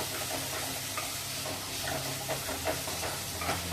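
Onion, green chilli and mango sautéing in a pan for a river-fish curry, a steady close sizzle with soft scrapes of stirring throughout, no talk.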